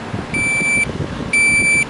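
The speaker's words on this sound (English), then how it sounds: "You hear it? You hear the alarm going?" A Samsung refrigerator forced into defrost mode sounds its alarm: two steady, shrill electronic beeps, each about half a second long, over a faint low hum.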